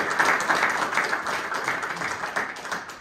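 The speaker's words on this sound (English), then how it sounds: "Please give him a warm round of applause." Conference audience giving a warm round of applause for a speaker taking the stage, a steady, even wash of many hands clapping at moderate loudness.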